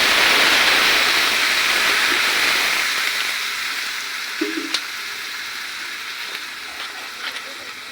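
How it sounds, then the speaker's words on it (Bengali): Rohu fish fries in a pan for an iftar meal, a loud dense sizzle and hiss that gradually fades and thins, with a few utensil clinks near the end. "আমরা মাছ ভাজা শুরু করে দিচ্ছি"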